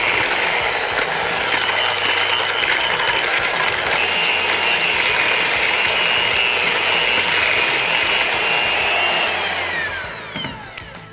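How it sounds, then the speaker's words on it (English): An electric hand mixer creams butter with granulated and brown sugar, a loud, steady high-pitched motor whine with rattling beaters running continuously before slowing and stopping at the end. "we're gonna use our electric hand mixer to cream these together."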